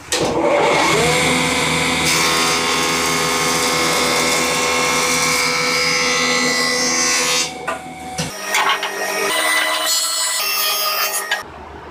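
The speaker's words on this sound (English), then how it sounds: "so after the planing step, I'm just going to joint one edge." A jointer planes the edge of a wooden board, a loud, close, steady machine roar with a grinding cutting tone for about eight seconds, then drops into softer intermittent rattling and clunks as the board comes off.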